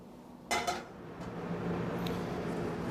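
A Vollrath aluminum frying pan is handled and set on a stovetop, making a couple of sharp metallic clanks close by. A low, steady hum continues underneath.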